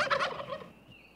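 A single wild turkey gobbles in one short, rapid, warbling burst, fairly close, which fades into quiet outdoor air.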